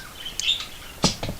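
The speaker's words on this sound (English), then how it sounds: "Are the birds really loud?" Birds chirp in short bright bursts, a couple of quick calls standing out clearly at moderate loudness.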